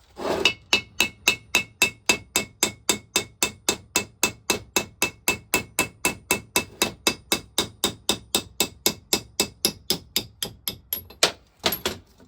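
A hammer taps steadily on the vaporiser of a 1921 Lister TM stationary engine during a strip-down. About forty sharp metallic blows fall at an even, brisk rhythm, close and clear, with a brief pause near the end and no talk.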